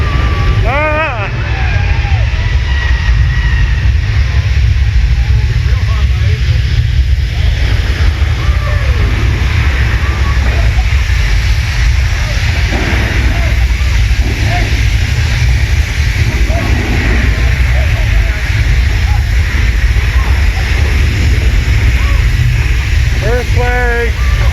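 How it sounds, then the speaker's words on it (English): A simulated earthquake on the Universal Studios tram ride rumbles loudly and without a break throughout, a heavy roaring shake with people's voices and shouts heard over it. "This is not a little earthquake. This is the big one."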